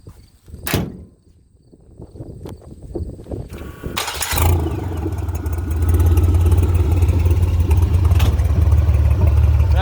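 A 4.3L V6 engine in a restored 1929 Ford Model A pickup cranks over after a door clunk and fires up, then settles into a loud, steady, deep idle close by, with no talking.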